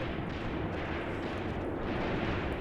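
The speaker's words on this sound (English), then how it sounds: "it's really mostly small arms fire at this point in the battle" Dense, continuous battle din from a WW2 Eastern Front video game: small arms and machine gun fire rolling together into a steady rumble of overlapping shots, loud and unbroken with no talk.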